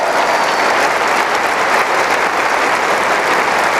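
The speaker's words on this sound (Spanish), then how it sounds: "¡Aplauso para el Espíritu Santo!" Loud, sustained congregation applause in a church service, dense even clapping that fills the space without a break.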